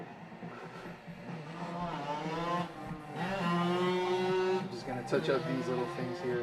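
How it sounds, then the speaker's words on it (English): Motorcycles and dune buggies rev and drive outside, their engine whines rising and holding at a distance behind someone talking nearby. "We got a lot of people with motorcycles, or not even motorcycles, they're just dune buggies in the area."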